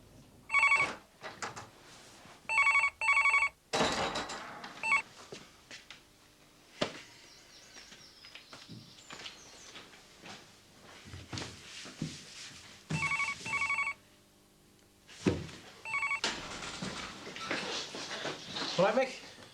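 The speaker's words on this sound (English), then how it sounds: "That phone's been driving me mad all day." A telephone rings in repeated double bursts, stopping and starting several times, while people talk and move around in a room between the rings.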